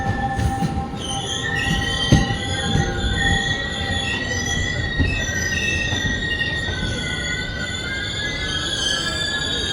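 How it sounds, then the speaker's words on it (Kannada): The Yesvantpur Bikaner Express pulls into platform 2 at Davanagere station, with loud sustained wheel squeal, overlapping metallic screeching tones and a rumbling undertone over nearly ten seconds, heard from aboard the train. "ಈಗ ನಮ್ಮ ಟ್ರೈನು ಪ್ಲಾಟ್ಫಾರ್ಮ್ ನಂಬರ್ 2ಗೆ ಎಂಟ್ರ್ ಆಗ್ತಿದೆ"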